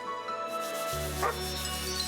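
A dog in the video game Chained Echoes gives a short, friendly bark over steady background game music, close and fairly loud.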